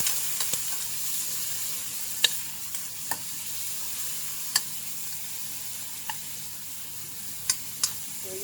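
Tofu fries in a pan with sautéed garlic and ginger, giving a continuous close sizzle. Sharp little pops and utensil taps recur every second or so.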